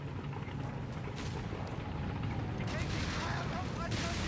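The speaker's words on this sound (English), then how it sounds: "German's being hit by the grenades" Grenade launcher rounds from a halftrack striking German troops in Company of Heroes 3, a dense, continuous roar of rumbling blasts and crackling battle noise with sharper impacts rising through it.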